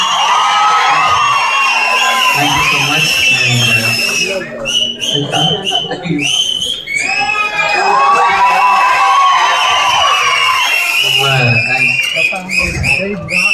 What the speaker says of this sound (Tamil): நீங்க அடிக்கிற ஒரு ஒரு விசிலும் ஒரு ஒரு கைத்தட்டு எங்களுக்கு ரொம்ப பெரிய விஷயம்